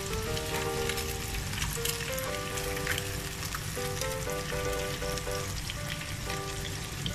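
Pounded garlic sizzling and frying in hot oil, a dense steady crackle up close that runs throughout, with a faint sustained tonal hum under it.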